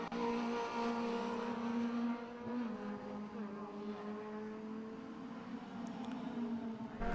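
Intermarque Silhouettes racing cars battling in a close four-car group at Snetterton circuit, a steady droning engine roar sustained throughout with shifting pitch as the cars hold speed, heard from trackside at moderate distance.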